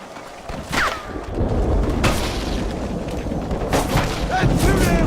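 Gunfire in the video game Red Dead Redemption, several booming shots cracking out at irregular intervals over a dense rumble of continuous fire, with a voice talking intermittently among the blasts.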